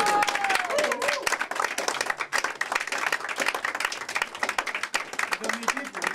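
Audience at a French chanson performance claps loudly to welcome a guest, with brisk, close clapping of distinct individual claps and some voices mixed in throughout.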